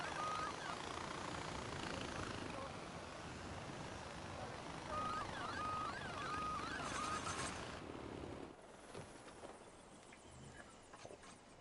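A helicopter in a video game makes a steady, dense rotor and engine roar that fills the scene continuously, loud and close, then drops somewhat quieter near the end.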